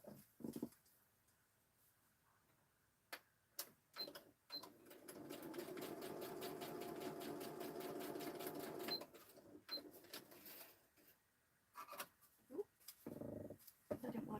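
Sewing machine stitching an embellishment closed, a steady rapid run of mechanical clicks for several seconds between quieter moments, with a dog whimpering and soft talk around it.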